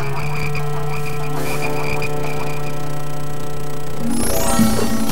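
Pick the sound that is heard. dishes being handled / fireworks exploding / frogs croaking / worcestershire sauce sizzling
frogs croaking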